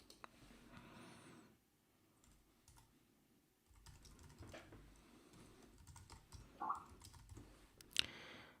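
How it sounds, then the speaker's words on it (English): Typing on a computer keyboard gives quiet, scattered key clicks in short bursts with pauses, faint and close, plus a couple of sharper taps near the end. "We'll just type in any address."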